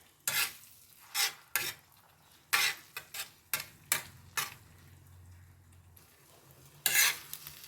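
Scrambled eggs stirred in a pan for a Telugu street-style egg bread toast, giving a string of distinct, irregular scraping strokes against the pan with a faint sizzle underneath and no talking.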